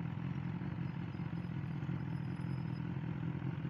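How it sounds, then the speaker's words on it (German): A motorcycle engine idling at a street corner, a steady low rumbling chug that stays even and close throughout, with no voices over it. "Ein Moped. Ein Moped."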